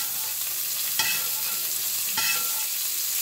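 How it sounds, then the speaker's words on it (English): Steak sizzles and spits in a hot pan while being basted, a steady bright crackle broken by two sharper bursts as hot fat is spooned over the meat. "we're going to baste it one more time"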